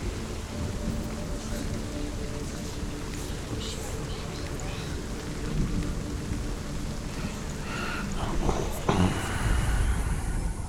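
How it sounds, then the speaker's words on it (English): Steady, dense rainfall fills the game world of Hellblade: Senua's Sacrifice, a continuous hiss that holds level throughout and swells slightly near the end with a brief sharper burst. "The sound effects of this rain"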